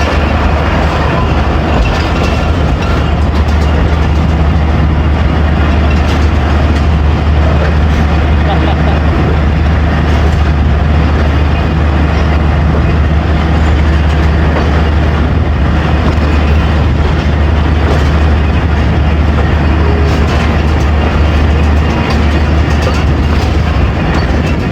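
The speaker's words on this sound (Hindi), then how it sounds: "गार्ड साहब का फ्लैग दिखा के ट्रेन को डिपार्चर करने का खूबसूरत स्टाइल, और मंडी अहमदाबाद से डिपार्चर" The Baba Fareed Express pulls out of Mandi Ahmadabad station, a loud, steady rumble of the train with constant low drone and rail noise throughout, voices faintly beneath.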